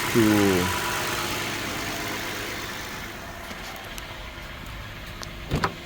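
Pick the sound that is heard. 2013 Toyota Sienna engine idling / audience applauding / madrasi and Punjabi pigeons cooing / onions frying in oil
2013 Toyota Sienna engine idling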